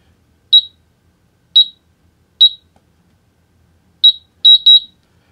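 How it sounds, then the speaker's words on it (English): Electronic keypad on a vertical bedside pistol safe giving short high beeps, single chirps spaced out and then a quick double beep, crisp and close in an otherwise silent room. "Long press, beeps twice."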